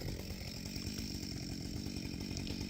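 A chainsaw cuts through knotty fir firewood, its engine a loud continuous rasping drone held close and steady throughout.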